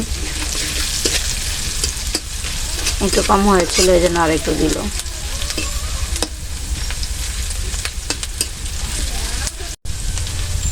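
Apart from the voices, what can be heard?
turmeric frying in oil for cabbage fry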